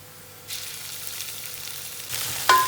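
Ginger garlic paste sizzling in hot oil with golden fried onions, a soft steady frying hiss that swells when the paste goes in and again near the end with a brief stir.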